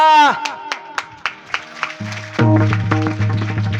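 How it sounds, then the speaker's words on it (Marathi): Audience hands clap in a few sharp, irregular bursts at a devotional Harinam Saptah gathering, with a voice at the start. Sustained harmonium-like music and rhythmic percussion then take over. "टाळी वाजायचं असेल तर मोकळ्या मनाने वाजा"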